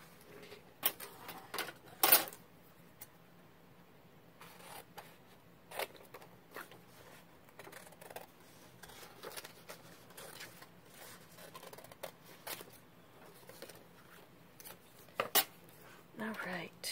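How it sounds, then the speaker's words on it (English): Scissors snip through fabric while butterfly motifs are fussy cut for a lunch sack insert pocket, giving sparse, quiet cuts and rustles spaced irregularly over a low room hum, with one sharper snip standing out. "If y'all can handle watching me fussy cut for a little bit."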